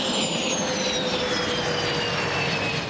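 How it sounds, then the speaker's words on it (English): A military transport plane touches down, its jet engine roaring steadily and loudly at close range throughout, with no talk. "As his plane touched down,"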